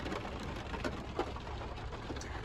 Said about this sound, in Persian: بارون رو ببینید